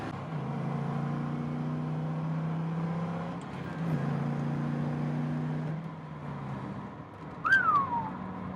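A modified LS1 Pontiac GTO with 3.91 gears and a rebuilt rear end accelerates gently from inside the cabin, a steady low engine drone rising in pitch across gear changes, with a brief whistling tone near the end.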